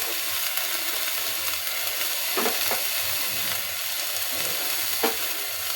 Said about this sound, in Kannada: ಚೆನ್ನಾಗಿ ಬಾಡಿಸ್ಕೊಬೇಕು.